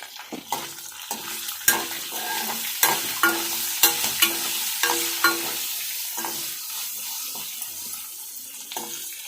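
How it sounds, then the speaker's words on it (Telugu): Tempering of spices sizzling in a pan as turmeric is added, steady crackle and hiss punctuated by repeated sharp clinks and scrapes of a spoon stirring at a regular pace, close by with no talking. "తాలింపు వేగాక ఇవి వేసి కొంచెంసేపు వేయించుకొని కొంచెం పసుపు అండి ఒక చిటికి పసుపు పసుపు వేసుకొని"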